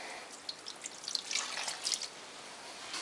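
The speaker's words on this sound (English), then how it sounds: "I'll just put the water in last." Water pours into a pot of pancake syrup ingredients, a soft, close trickle with small splashes and drips that build briefly, then continue as a gentle stream.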